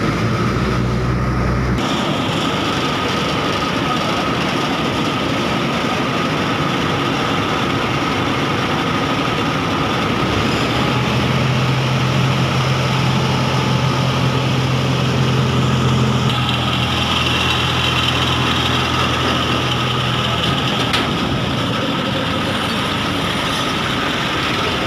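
A tractor-driven corn cutting machine runs steadily on a farm, a continuous loud mechanical drone with low engine rumble and a shift in tone partway through, with no talking.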